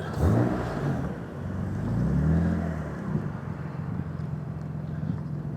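An idling six-cylinder engine burbles with an uneven, lopsided rumble, swelling briefly as it revs, then settling into a low steady throb nearby.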